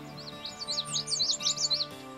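Songbirds chirp among willow growth in Yellowstone, with a quick run of bright, close, rising and falling tweets in overlapping bursts.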